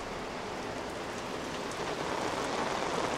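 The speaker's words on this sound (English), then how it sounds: "the rain's starting to pick up again out here" Heavy rain falling outdoors at night in China, a dense, steady hiss of drops that swells slightly louder toward the end, close and continuous with no voices.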